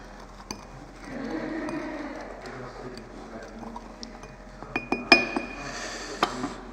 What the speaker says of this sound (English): you muddle lime and sugar into a glass